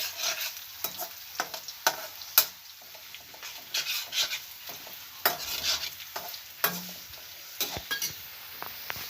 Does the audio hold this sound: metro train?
no